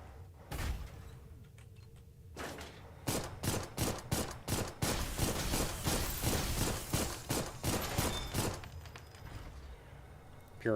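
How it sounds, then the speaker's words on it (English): Rapid bursts of gunfire from a mech in the video game Armored Core, shooting at a lamp: a long run of loud, closely spaced shots with brief pauses, heard alone. "Just a lamp. Shooting at a lamp."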